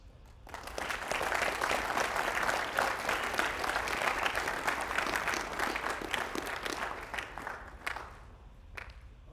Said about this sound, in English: I think you guys should give your parents a big round of applause